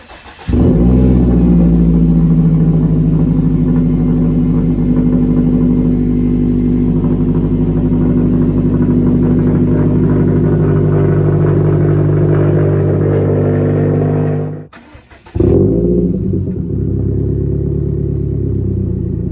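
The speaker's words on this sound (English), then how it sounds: "So here are some sound clips with that resonator on." A Subaru STI with an aftermarket exhaust and resonator revs loud and close, holding a deep, sustained engine drone that cuts out briefly near the end before picking back up.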